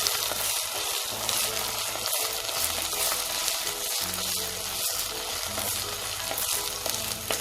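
Ginger garlic paste frying in a pan for chicken varattiyathu, a steady loud sizzle with occasional soft stirring scrapes and no talk.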